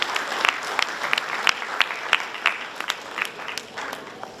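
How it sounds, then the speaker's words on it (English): An audience at a university inaugural address gives a big round of applause for everyone on and off the stage, many hands clapping together in a steady, bright patter with some sharper individual claps standing out. "Give a huge applause to everyone who's on the stage and who's off the stage."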